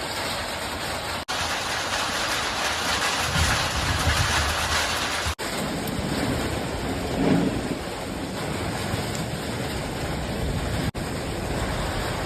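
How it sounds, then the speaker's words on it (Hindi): Steady heavy rain pours down in a dense continuous hiss, with low rumbles of thunder rolling underneath at moments. "अब देखो हमारे यहाँ बारिश शुरू हो चुकी है।"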